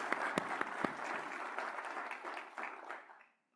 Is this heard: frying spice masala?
no